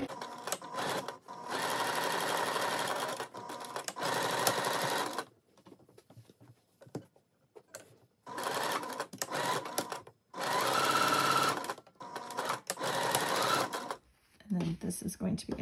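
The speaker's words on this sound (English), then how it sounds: "I am sewing the waistband seams together." Sewing machine stitching the waistband seams of a floral sundress, running in several long steady bursts separated by short pauses, close and loud; no talking over it.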